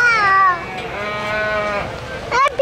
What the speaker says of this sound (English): Look at this baby goat over here.